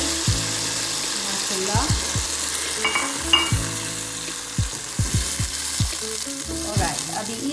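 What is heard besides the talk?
blended tomatoes added to hot pan, sizzling while frying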